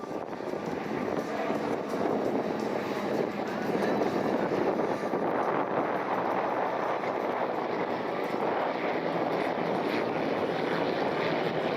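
T-34 airplanes fly at the Props & Pistons Festival airshow in Akron, Ohio, as they prepare to land. A steady, rumbling propeller drone fills the scene, mixed with wind noise and no break in the sound.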